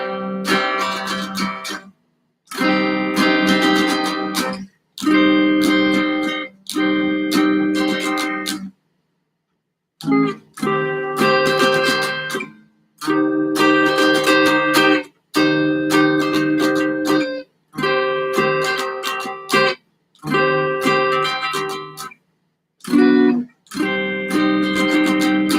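Rhythm guitar chords strummed in short bursts separated by brief silences, bright and fairly loud, repeating a pattern with no talking.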